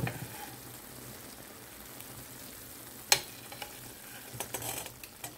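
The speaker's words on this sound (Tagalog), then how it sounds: "Kailangan pala nating haluin para pantay ang pagkaluto." Marinated beef being stirred in a hot pan, with a steady low sizzle, quiet scraping strokes and one sharp clink near the middle, followed by a few more utensil knocks.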